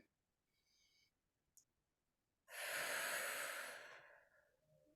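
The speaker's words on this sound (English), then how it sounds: "Taking another breath in" A single slow, deep breath drawn in during a guided breathing exercise, heard close and loud as a long airy inhale that follows a few faint clicks and a quiet sniff.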